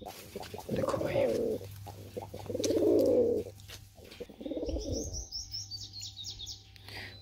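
Several rounded, throaty pigeon coos repeat close by at a pigeon sale in Delhi, followed by higher thin chirping from another bird.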